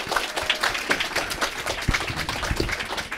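An audience claps together in a hall, a dense continuous patter of applause at moderate level with no voices over it.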